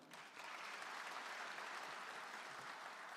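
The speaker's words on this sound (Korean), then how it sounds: "박수 한번 부탁드립니다" Faint, distant-sounding applause from the audience at a county public hearing on regional administrative integration in South Korea, a steady wash of clapping that rises briefly and holds for about three seconds.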